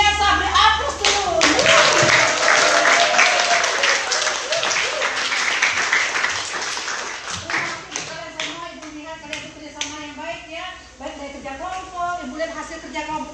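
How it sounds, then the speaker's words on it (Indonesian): A classroom of students claps together, dense and loud at first, then tapering into scattered claps as children's voices and chatter rise and take over. "beri aplaus dulu"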